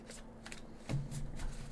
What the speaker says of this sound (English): one more good shuffle here